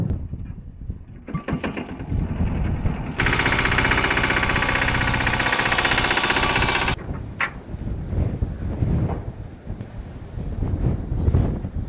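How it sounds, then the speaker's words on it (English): A tractor engine runs steadily on a cabin restoration site, a loud broadband roar for several seconds that holds level, then drops back to a lower, rougher rumble with knocking and wind buffeting around it. "Here I'm going to bring more from back there with the tractor"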